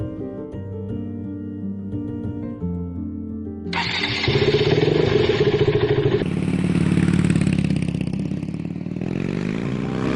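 Motorcycle engine on a road starting up and revving hard, a loud, sustained, rising roar close by with no talking over it.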